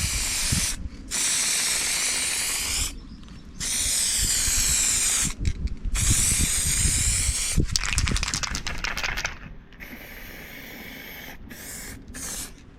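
An aerosol spray can lays a thick final coat of paint on Nissan Micra K11 valve covers outdoors, with long loud hissing bursts separated by short pauses.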